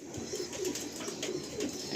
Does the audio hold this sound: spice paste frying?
no